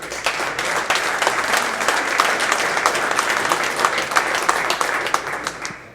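An audience at a city council meeting in Hammond breaks into steady applause, a dense wash of many clapping hands that holds for several seconds before tapering off.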